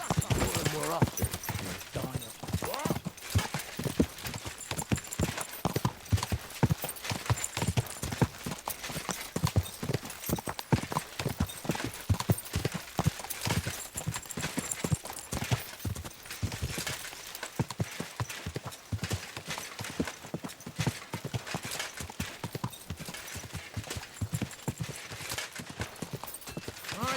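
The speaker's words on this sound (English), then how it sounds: "My, what a beautiful horse." Rapid, steady clip-clop of horse hooves in the video game Kingdom Come: Deliverance II runs throughout, loud and close, with talking over parts of it.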